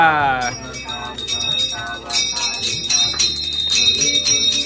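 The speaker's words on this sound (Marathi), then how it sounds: "आता आरतीचा टाइम सुरू झालाय. चला मी पण घेतले घंटी." A small hand bell rings continuously during a Ganesh aarti at home, bright and close, with rhythmic clanging carried along by voices singing together.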